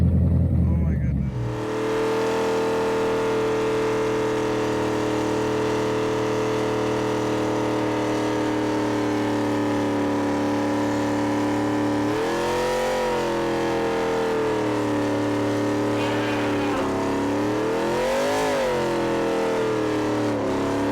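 A car does tire burnouts at The Freedom Factory, its engine holding a loud, sustained roar for about twenty seconds, with rev swells and dips partway through.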